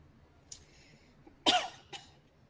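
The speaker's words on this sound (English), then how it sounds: "Don't know why I started coughing again today." A person coughs nearby: a short throat sound, then one strong cough and a smaller one after, in a quiet room.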